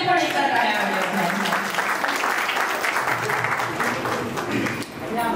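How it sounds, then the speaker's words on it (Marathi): Audience claps steadily for an expected baby at a Marathi baby shower (dohale jevan) celebration, a dense, sustained round of applause from many hands that holds for several seconds and eases slightly toward the end. "जो कोणी ऍड होणार आहे त्याच्यासाठी पण एका टाळ्या वाजवायच्या."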